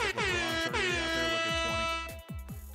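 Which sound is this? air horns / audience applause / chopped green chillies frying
air horns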